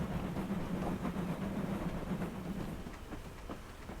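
A goods train in the Railworks simulator rolls along the Weardale branch with a low droning rumble and faint rhythmic clatter, steady at moderate level and easing slightly toward the end, no voices.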